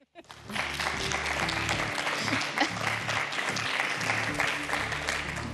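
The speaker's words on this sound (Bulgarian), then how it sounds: "спрете да пляскате" A studio audience applauds steadily and loudly throughout, a dense, sustained wash of clapping from many hands with no break.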